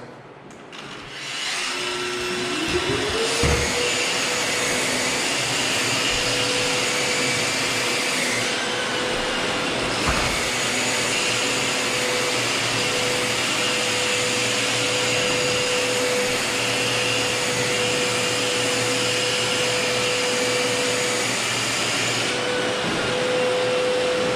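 A Festool Planex drywall sander spins up and runs continuously while working on screw spots in drywall, a loud, steady vacuum-like whine and rush with a constant motor tone and slight shifts in pitch, heard close with no talk.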